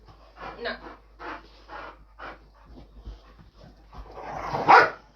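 Rowdy dogs at an animal sanctuary bark and yip in short, close bursts with panting between, ending in a louder flurry, with a person talking nearby.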